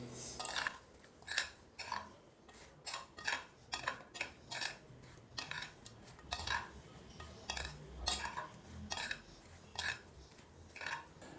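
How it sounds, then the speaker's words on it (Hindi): A metal spoon stirs green chillies with turmeric, salt and fenugreek in a bowl, giving repeated soft scraping clinks at a steady rhythm, close and fairly quiet. "हल्दी और नमक और मेथे डालेंगे। चम्मच की मदद से अच्छे से मिक्स करेंगे"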